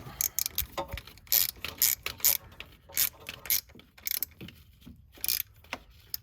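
Bolts are tightened by hand on the neutral safety switch of a Ford Focus with a no-start, no-crank fault, giving quick bursts of ratcheting clicks in an irregular rhythm, close up and alone.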